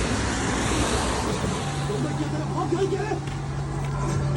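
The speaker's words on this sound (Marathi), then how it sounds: "बघा गाड्या बघा जातातच अजून पुढे" Cars passing along a Mumbai road at night around half past two, a steady wash of traffic noise with a low engine hum, as people talk over it.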